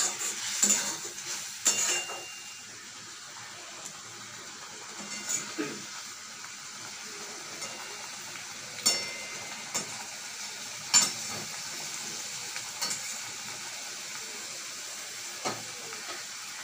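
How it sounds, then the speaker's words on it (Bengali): Chili powder sautéed in a pan for arum stems with shrimp, a faint soft sizzle with scattered sharp clinks and scrapes of a utensil against the pan; no talk. "গুঁড়ো লঙ্কা দিয়ে এটা ভালো করে কষাবো, খুব সুন্দর করে কষাবো"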